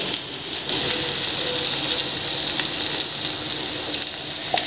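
Chili powder frying in a pan gives a steady, fairly loud sizzle throughout, with broadband hiss and light crackles and no talking.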